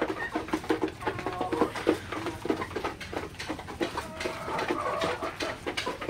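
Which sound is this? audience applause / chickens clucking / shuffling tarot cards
chickens clucking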